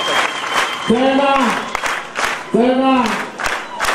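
Crowd applauding at the launch of a bodaboda sacco in Kisii County, steady clapping beneath a voice calling out twice over the clapping.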